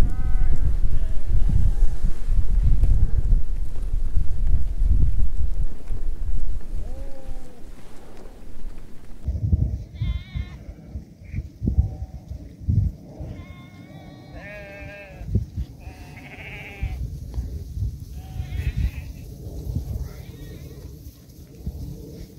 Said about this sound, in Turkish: Bu keçiler bayağı da yaman keçiler, hep birbirlerini takip ediyorlar.